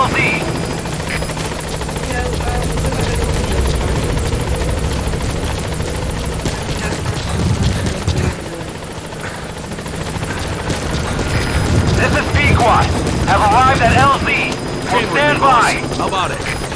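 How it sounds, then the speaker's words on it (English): A support helicopter arrives in Metal Gear Solid 5: The Phantom Pain with a loud, steady rotor roar that runs throughout, while voices talk over it toward the end. "Support helicopter has arrived."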